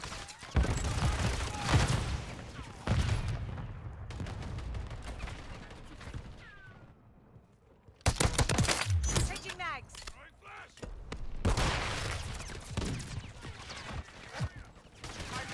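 Gunfire in Call of Duty: Modern Warfare 3, with bursts of rapid shots and impacts under game effects, the sound dropping out briefly midway before the firing resumes, with a voice talking over parts.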